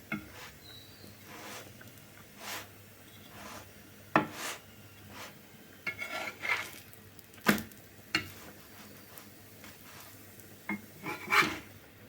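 A chapati is pressed down and turned on a hot griddle, giving scattered scraping and rubbing strokes with sharp taps against the metal, irregular and fairly close, with no talking.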